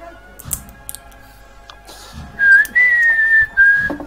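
A person whistles a single clear note in Seville during Holy Week. It rises slightly, then holds steady for over a second, loud and close, after some faint knocks and taps.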